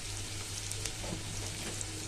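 Onion, garlic paste and ginger paste fry in hot oil with a steady, dense sizzle and crackle, close and continuous, with no voices.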